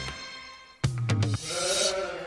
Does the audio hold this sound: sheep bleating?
yes